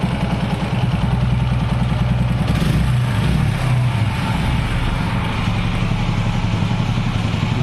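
A motorcycle engine runs steadily on a test ride just after servicing, a loud, continuous low throb with a rhythmic pulse, briefly revving up around the middle before settling back to a constant drone.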